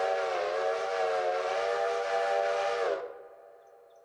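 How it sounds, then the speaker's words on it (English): A steam-style locomotive whistle in the railway game Railroader sounds one long, loud, steady harmonic blast that cuts off sharply, leaving a quieter low hum behind. "3 blasts of whistle, and we are moving towards that derailed engine"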